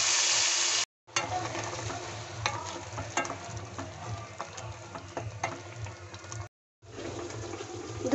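Ground spice paste sizzles and is stirred in a pan over whole bay leaf, cinnamon, cardamom and cumin for chicken curry, a steady frying hiss with scraping strokes, cut by two short silent gaps.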